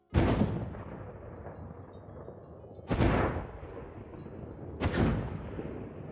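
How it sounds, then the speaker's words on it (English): Thunder-like cannon fire from the video game Braid: three heavy booms with long rumbling tails, the first at the start and two more a couple of seconds apart, loud and alone. "A natural idea was to play with the sound of thunder that in an abstract way could connect both the cannons, the clouds and the rain"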